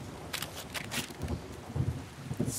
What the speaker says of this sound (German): Wie oft donnert das denn?